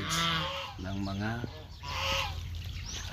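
Several geese honk in short, nasal bursts, a few calls close together, with some faint fowl clucking in the background.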